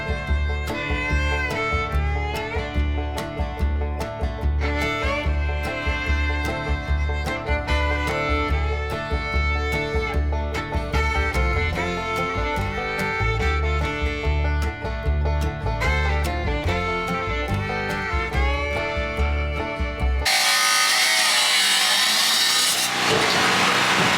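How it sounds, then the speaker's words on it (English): A 4-inch angle grinder cuts into the corner of wooden framing with a loud, close whine that wavers in pitch as it bites, ending in a harsher burst of noise. "So I'm gonna get a 4-inch angle grinder and just try to get that little corner done."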